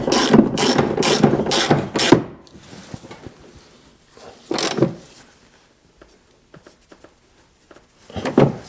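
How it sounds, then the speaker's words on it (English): A half-inch ratchet tightening the top bolt of a rear shock on a 2002–2007 Jeep Liberty, heard as a quick run of loud, close clicking strokes, then sparser softer clicks, with one more burst near the end. "I'm just pulling out the 1/2 inch to tighten up the top."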